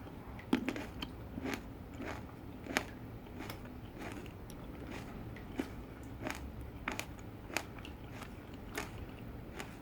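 Red cherry tomatoes from a home vegetable garden are bitten and chewed up close, giving repeated soft crunchy, juicy bursts at an uneven pace over quiet room tone.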